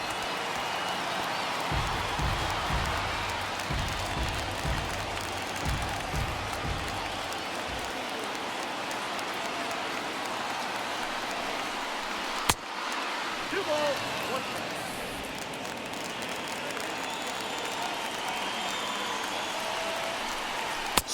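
A baseball stadium crowd of over 39,000 keeps up a steady roar and cheer throughout, standing late in a Blue Jays–Mets game as a broadcaster talks over it, with scattered clapping and a sharp crack partway through.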